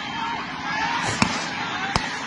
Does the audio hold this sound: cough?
no